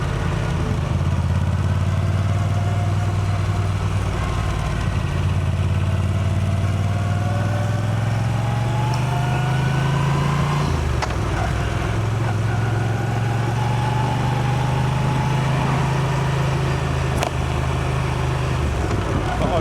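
A motorcycle engine idling and running slowly at low revs, a steady close rumble throughout with a slight rise and dip in pitch partway through.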